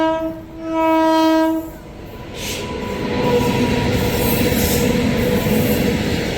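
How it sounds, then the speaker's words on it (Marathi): A loud train horn blares for over a second, then a heavy freight train rumbles past close by with steady rolling clatter and rail noise. "इथं ट्रेन आली आहे"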